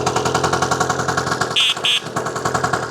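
A rebuilt 1962 Lambretta Series 2 Casa 186cc scooter idles on choke, a loud close rapid two-stroke putter with a steady pulsing rhythm, briefly interrupted by two short horn beeps.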